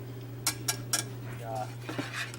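Turkey gravy being whisked in a pan, a few distinct metallic clinks and taps of the whisk against the pan over a low background hum, brief and fairly quiet.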